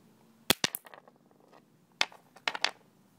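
Nitrogen triiodide detonating in a run of sharp, sudden cracks, a cluster of three early bangs then another tight group of four, close and loud with quiet between.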